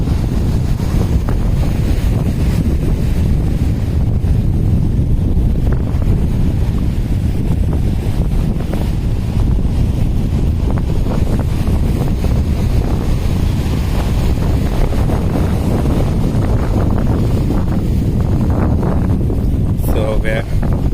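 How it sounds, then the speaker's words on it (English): Wind buffets the microphone over steady surf rolling onto Karon Beach in Phuket, a loud, continuous broadband roar with no clear breaks throughout. "We're on the Karon Beach."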